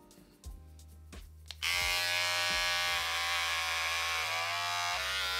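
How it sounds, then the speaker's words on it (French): An electric razor buzzes close by as hair is trimmed short, starting with a few brief bursts and then running as a steady, loud hum with slight shifts in pitch as it moves through the hair. "je pense que je vais aller chercher le rasoir électrique et que je vais recouper tout ça proprement"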